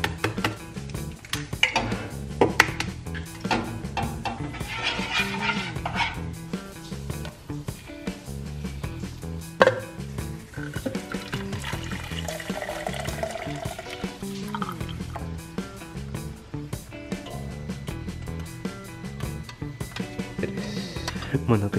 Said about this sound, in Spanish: Pues vamos a prepararle el desayuno, que serán estos dos huevos,